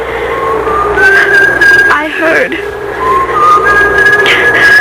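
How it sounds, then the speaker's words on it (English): A person whistles sliding, wavering notes, pausing briefly midway before resuming, over a steady low background rumble. "then I heard someone whistling"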